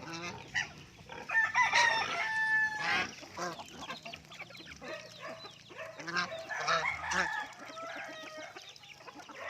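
Chickens cluck and squawk close by while a rooster crows through the noisy farmyard din; no talking.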